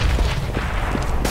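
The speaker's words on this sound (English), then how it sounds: "I'm throwing a grenade!" Grenade blast in the shooter game CS:GO: a short, loud burst of booming, gunfire-like cracks, with a second sharp hit near the end, close and without talk.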